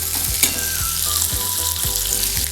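Potatoes frying in a pan for Bengali aloo dum while being stirred, a steady bright sizzle with repeated low scraping strokes of the spoon at a regular rhythm.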